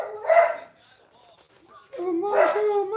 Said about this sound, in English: the dog's gonna go crazy, bro